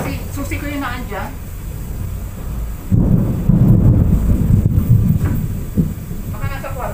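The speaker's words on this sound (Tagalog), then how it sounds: "Lakas ng kulog eh." Heavy thunder rolls loudly through a rainstorm around a house, a sustained low rumble lasting a few seconds, with household talk before and after.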